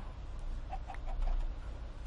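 A chicken in Minecraft gives a few short clucks at moderate distance, standing out over a steady low ambient rumble with no talking.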